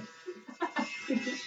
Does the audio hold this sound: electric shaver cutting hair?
yes